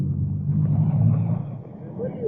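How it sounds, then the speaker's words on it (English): Cars pull away from a traffic light on a London street during a 1940 air raid alert, a low engine rumble swelling and fading, with a narrator speaking over it. "There it goes, and the cars move off."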